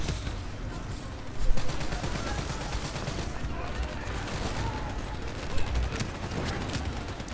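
Rapid bursts of gunfire from Call of Duty: Black Ops III played on hardened difficulty, a steady dense clatter of shots throughout with a couple of louder bursts, while a player talks over it.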